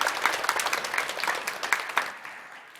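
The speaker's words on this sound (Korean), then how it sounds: "우리 한 번 더 하나님께 영광의 박수를 드리겠습니다" A church congregation at a Christmas worship service breaks into lively, crowded clapping. The sharp hand claps are layered and fairly close, then thin out and fade toward the end.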